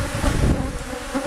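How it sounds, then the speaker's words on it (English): Dense, steady buzzing of many honeybees in an opened hive box, loud and close with a rough, windy texture and no clear pauses. "Plenty of bees."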